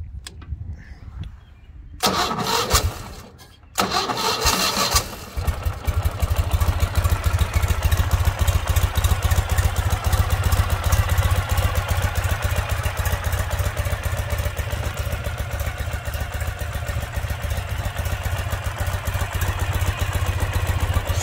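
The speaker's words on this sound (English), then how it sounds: "We'll go ahead and start it up here." A 2013 Ural 1WD Tourist sidecar motorcycle is cranked a few times with brief pauses, then catches and settles into a loud, steady, close-up idle with rhythmic chuffing that runs on without a break.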